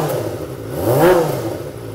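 A Kawasaki ZX25R's aftermarket exhaust, made in Purbalingga, revs up briefly and drops back at home, a short throaty rise and fall over a steady idle.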